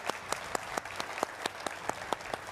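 A TV studio audience claps steadily to welcome guests on a news debate show, with sharp, evenly spaced loud claps standing out over a dense wash of applause.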